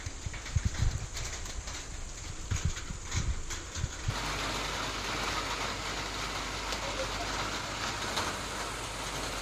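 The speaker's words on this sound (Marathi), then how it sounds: "आता स्टार्टिंग झाली आहे पहिल्या पावसाला" First monsoon rain in the Konkan countryside falls as a steady, dense hiss that sets in abruptly partway through, after a stretch of scattered bird calls and faint outdoor noise.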